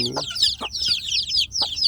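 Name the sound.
free-range chicks clucking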